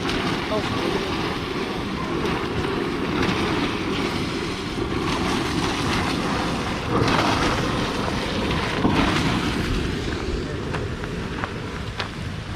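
Boiling hot spring water, where chicken and quail eggs are cooked, gushes up high with a continuous loud rushing roar mixed with wind buffeting.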